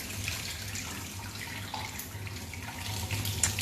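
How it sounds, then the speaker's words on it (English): Water being drained from a pot of cooked pasta for mac and cheese, a steady close rushing pour that runs without a break for several seconds, with no voices. "Okay, you drain the water completely."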